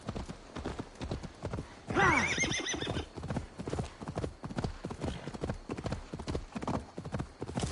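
Horse in the video game Assassin's Creed Valhalla galloping with rapid, rhythmic hoofbeats and letting out one loud neigh partway through, with steady gallop continuing throughout.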